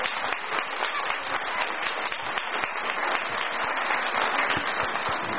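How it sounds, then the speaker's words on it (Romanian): An audience at a Romanian political gathering applauds, a dense and sustained burst of clapping from many hands that fills the room steadily with no pauses. "Vreau să-l aplaudeam cu toții."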